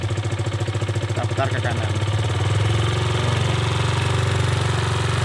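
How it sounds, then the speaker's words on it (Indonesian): A Kawasaki KLX 150 G motorcycle engine idles close by, its steady low chug rising to a higher, smoother RPM as the carburetor idle knob is turned, while someone talks over it. "Ya, mesinnya akan stasioner lebih tinggi."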